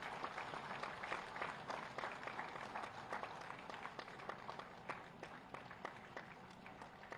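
An audience applauds teachers at a state teacher award ceremony on Teachers' Day, the clapping faint and steady throughout, with no talk.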